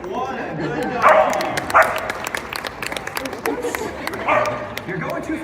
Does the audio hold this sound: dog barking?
yes